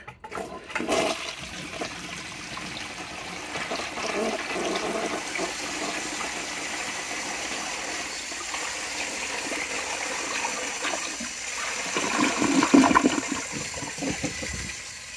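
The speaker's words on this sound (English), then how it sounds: "Now I'll try and flush my 2 grocery bag pieces." A blue 1972 Kohler Wellworth toilet flushes with a steady close rushing gush of water lasting the whole stretch, swelling louder near the end as the bowl drains, with no talk over it.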